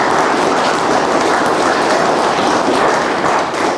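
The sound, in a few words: audience applause at a Buddhist Dharma talk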